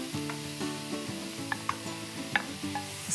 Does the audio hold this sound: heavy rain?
no